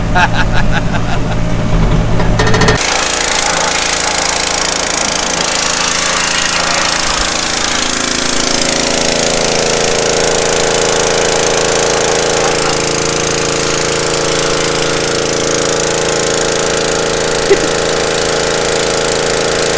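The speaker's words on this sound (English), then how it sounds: "Pressure washer's ready." A pressure washer runs steadily and loudly throughout, a continuous motor-and-pump drone with no pauses, following a brief burst of harsher mechanical noise at the very start.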